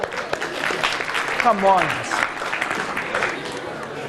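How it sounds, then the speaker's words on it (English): An audience claps in a round of applause at a talk on the existence of God and the purpose of life. Steady mid-level clapping runs through the clip, with a speaker's voice over it. "Give yourself a round of applause, yeah."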